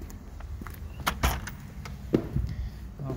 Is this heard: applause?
no